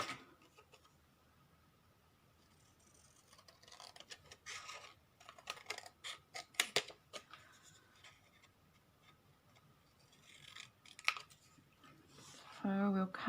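Scissors cutting cigarette-card pieces for a junk journal: scattered snipping and scraping strokes, close and soft, in irregular bursts with a louder crunch of cuts toward the end.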